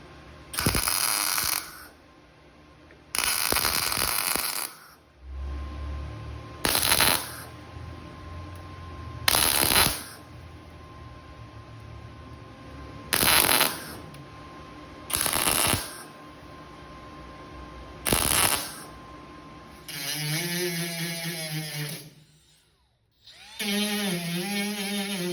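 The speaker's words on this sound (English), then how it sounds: "plug weld it in there." Plug welding a drilled steel reinforcement onto a weld cart, a series of about eight short crackling buzzing weld bursts, each a second or two long, with brief pauses between them, loud and close, ending with a different mechanical whir.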